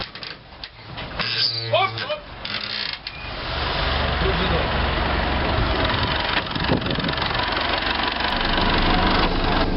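A car engine runs steadily while driving, carrying a newly bought lathe, rising to a loud sustained drone after a rougher, quieter start with a brief voice early on.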